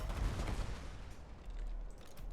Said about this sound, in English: Cannon! This won't misfire.